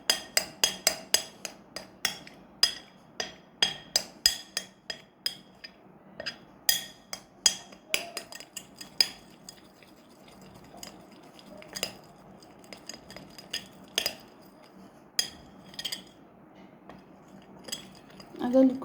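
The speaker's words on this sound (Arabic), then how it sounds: "هقلبهم حتى بالمعلقة كده مع بعض، مش مهم المضرب عشان يبقوا بالشوكولاتة" A spoon clinks and scrapes against a bowl while stirring whipped cream with a big spoonful of cocoa, a quick run of sharp metallic taps that slows and thins out, with someone talking over it.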